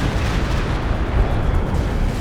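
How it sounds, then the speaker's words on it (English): A Katyusha rocket barrage thunders in the Company of Heroes 2 strategy game, giving a loud, continuous rumbling roar of launches and explosions that holds for about two seconds, with no voices. "there goes the Katyusha"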